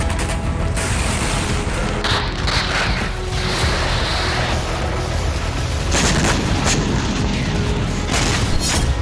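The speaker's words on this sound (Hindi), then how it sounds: "ज़ेपोरिज़िया में रूस ने इतनी मिसाइलें और रॉकेट दागे" Russian missile and rocket strikes in Zaporizhzhia during the war, heard as a dense, continuous roar of booms and rumbling blasts, with sharper explosive bursts standing out near the start and again around the middle.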